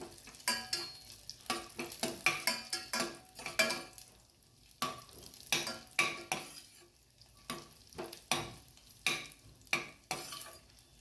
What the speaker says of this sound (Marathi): हे तूप चांगलं गरम झालेलं आहे यामध्येच आता ड्रायफ्रूट घालायचे आहेत आपल्याला काजू बदाम आणि मनुके हे छान असं गोल्डन भाजून घ्यायचंय